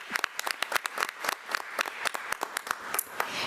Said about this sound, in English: So let's give Mrs. Hampleton another round of applause.